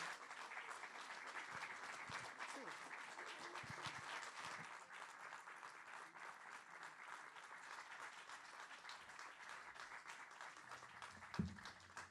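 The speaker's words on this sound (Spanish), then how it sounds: "Recibamos con un fuertísimo aplauso al profesor Ranulfo Fuentes Rojas" An audience at a tribute evening for César Vallejo applauds professor Ranulfo Fuentes Rojas, a long, even patter of many hands, quiet and distant, ending with a single thump.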